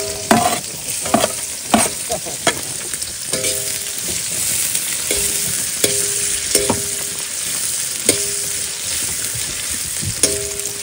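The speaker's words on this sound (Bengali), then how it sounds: "আমার আদা, পেঁয়াজ, রসুন ফ্রাই করা হয়ে গেছে" Ginger, onion and garlic fry in a pan with a constant sizzle, broken by repeated scraping strokes of a spatula and clinks against the metal, close and clear with no speech.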